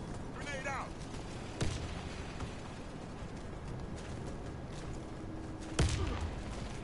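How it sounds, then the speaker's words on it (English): Grenade explosions in a first-person shooter video game, two sharp booms about four seconds apart rising out of a steady bed of distant battle noise and gunfire. "Grenade out."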